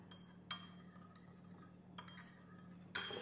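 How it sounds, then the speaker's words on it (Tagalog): Utensils clink against a bowl as a salad seasoned with salt and pepper is tossed, with a few sharp, close taps spaced about a second apart over a soft, quiet background. "Next, haluin muna natin siya."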